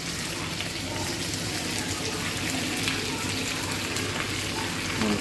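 Onion, garlic and green chilli frying in a pan with cumin produce a loud, dense, continuous sizzle close by, a broad hiss like heavy rain, with no speech.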